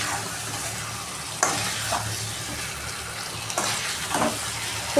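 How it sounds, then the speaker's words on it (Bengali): Marinated chicken with fried onions and spices sizzles steadily in a pan, a continuous close frying hiss broken by a few louder scrapes and stirs. "এরপর আমি চিকেন মাখাটা মশলার সাথে যে মেখে রেখেছিলাম চিকেনটা দিয়ে দিচ্ছি"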